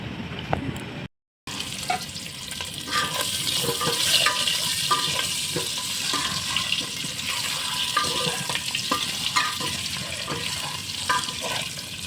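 A bay leaf fries in hot oil in a pot, giving a steady, close crackling sizzle with a brief silent gap near the start and no voices.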